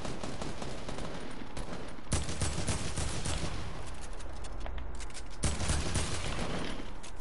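Sustained rapid gunfire while shooting zombies in a video game, a dense, loud, continuous automatic fusillade with heavier bursts near the start and end.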